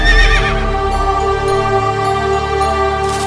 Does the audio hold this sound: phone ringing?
no